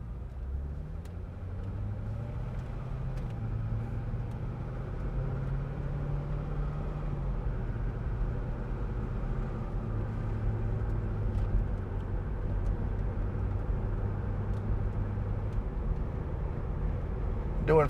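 A 2007 Chevrolet Corvette 3LT pulls away at Celebrity Cars Las Vegas, its engine a steady low rumble that climbs gently through the gears from inside the cabin, with someone talking now and then over it.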